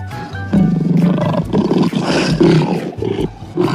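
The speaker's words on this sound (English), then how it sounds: "Lion makes roar, roar sound." Lion roaring, a loud close roar with throaty rumbling bursts and brief pauses, running alone without speech.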